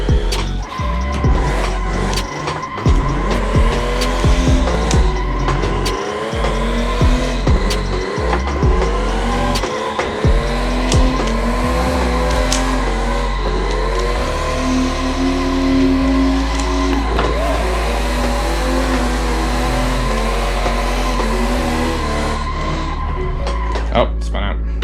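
A car drifting in a small parking lot, tires squealing repeatedly as the engine revs up and down, with a person talking and exclaiming over it.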